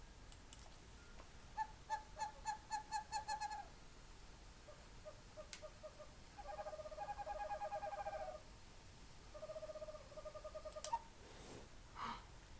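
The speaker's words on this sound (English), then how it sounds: "Crickets chirping, frogs croaking, and owl hooting." Faint owl hoots repeat in rhythmic series over a quiet, hissy night background, with a few soft clicks between the calls.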